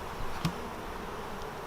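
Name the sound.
honey bees buzzing around a hive colony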